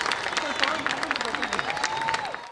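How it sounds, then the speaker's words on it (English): A crowd of parents applauds at a pre-primary school's annual day celebration, scattered hand claps rattling continuously around a hall while a voice talks over the clapping and background chatter. "Let's keep the applause going on."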